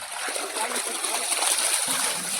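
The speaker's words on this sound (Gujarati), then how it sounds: "અત્યારે છે ને આપણે પાણી ભરવા માટે મોટર શરૂ કરી છે" Steady gushing water from an electric motor pump pours and splashes into a container, loud and continuous, with a faint mechanical hum beneath.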